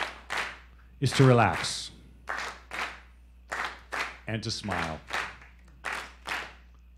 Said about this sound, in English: No matter what, you do not stop clapping